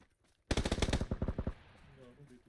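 A quick burst of about a dozen loud automatic gunshots in the video game PUBG on the Sanhok map, fired in a fast even rhythm and then trailing off into faint background game sound.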